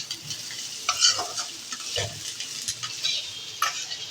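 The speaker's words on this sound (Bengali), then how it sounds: "এই যে আলু ভাজা করছি।" Potatoes fry in hot oil in a pan, crackling sizzle under quick repeated scrapes and clacks of a utensil stirring them, close up with no voices.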